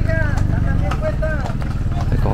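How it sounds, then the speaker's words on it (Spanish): Horses walking in a festive riding cavalcade with women riders, hooves clip-clopping in a steady close rhythm under a low engine rumble, while someone talks excitedly over it. "Aquí viene, mire nomás qué chulada de cabalgata."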